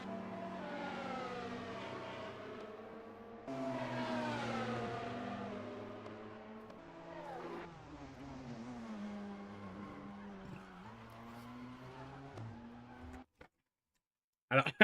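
A modded F1 car engine in the Assetto Corsa racing game wails at high revs, its pitch sweeping up and down through gear changes, with a skidding spin before it cuts out to near silence.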